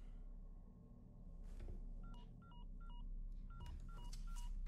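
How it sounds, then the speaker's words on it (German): Telephone keypad tones from Resident Evil 4 Remake beep in a rapid series of short dialing pulses, clear and close over a steady low game ambience. "Ach, jetzt kommt er auf die Idee zu telefonieren."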